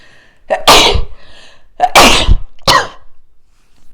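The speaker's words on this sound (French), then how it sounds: "J'ai envie d'éternuer." Three sharp sneezes in quick succession, loud and close, each with a short breathy burst and pauses of silence between them.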